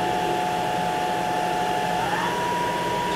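The spindle of a Kia HC800 horizontal machining center spins up, giving a steady whirring whine with a tonal hum that steps up in pitch midway, over a constant mechanical drone close by.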